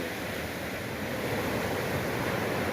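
Surf washing onto Pasir Putih beach in South Aceh: a continuous, even roar of breaking waves with some wind buffeting across the microphone, with no voices and no distinct individual breakers.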